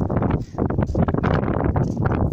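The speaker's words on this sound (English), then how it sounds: "it's too windy out here" Wind gusting across a microphone outdoors in a vegetable garden, loud rumbling buffets rising and falling in quick succession, close and dominating the whole moment with no clear speech.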